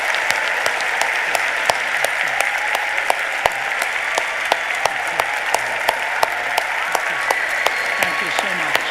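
A university open forum audience gives the speakers a long, steady round of applause, dense and even, with individual sharp claps standing out near the front and faint voices underneath.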